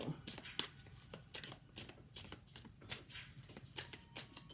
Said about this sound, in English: I usually like to shuffle until things come out